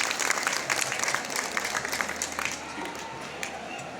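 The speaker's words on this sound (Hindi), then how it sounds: "इनको ताली बजाइए, इनका कार्यक्रम चल रहा है।" An audience claps in dense, lively applause at a Shiva temple event, loud at first and then easing into thinner clapping.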